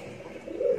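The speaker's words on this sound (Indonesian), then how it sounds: "Nah ini contohnya untuk sekarang aku bisa beli burung ini." A pigeon or dove gives a single soft, mid-pitched coo that swells near the end, close by and alone, with no talk.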